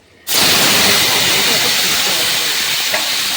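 Tomato hits hot mustard oil in a wok with a sudden loud burst of sizzling, then a dense steady hiss that carries on close and strong.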